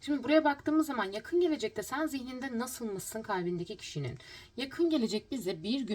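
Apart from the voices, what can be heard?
No distinct noise like a dog, phone or traffic.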